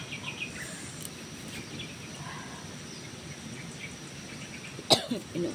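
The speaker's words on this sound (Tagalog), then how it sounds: "Inuubo na ako mga kaiba." A single sharp cough rings out near the end over a low, steady outdoor background of insect hum and faint ambient noise.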